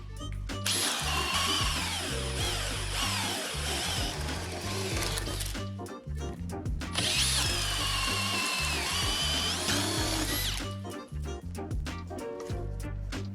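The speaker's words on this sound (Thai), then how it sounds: "ดอกเซลฟิดดิ้งก็ยังสามารถเจาะลึกๆ ได้ ด้วยข้อต่อเสริมความยาว" A cordless M-series drill with a self-feeding bit and extension bores a deep hole in wood, a loud steady whine with a grinding, ratcheting chatter, pausing briefly near the middle before starting up again.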